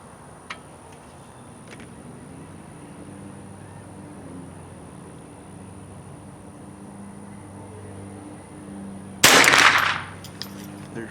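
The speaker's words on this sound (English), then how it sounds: "crack of bullets." A single loud rifle shot rings out near the end, its sharp crack followed by a brief decaying tail over a quiet outdoor hum, fired while testing a CVLife 2.5-10x40e rifle scope.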